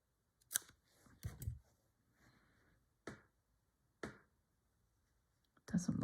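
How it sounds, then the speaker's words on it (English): Scissors snip a little strip of fabric for slow-stitched sunflower work, a few sharp separate cuts spaced out over several seconds, close and quiet, with soft talking in between. "So I might just cut a little strip."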